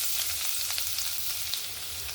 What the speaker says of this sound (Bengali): এবার দিয়ে দেবো রসুন কুচি